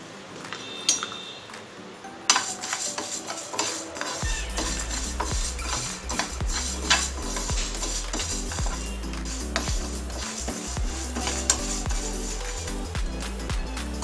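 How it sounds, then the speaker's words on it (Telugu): Moong dal dry roasting in a pan on a stove, with repeated clinks and scrapes of a utensil against the pan and faint sizzle-like noise throughout. "ముందుగా స్టవ్ మీద ప్యాన్ పెట్టి పెసరపప్పుని డ్రై రోస్ట్ చేసుకోవాలి"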